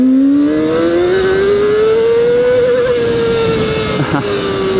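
A 2025 Kove 450RR motorcycle accelerating hard through first gear, its engine note loud and close as it climbs steadily in pitch. The note then levels off and eases slightly near the end.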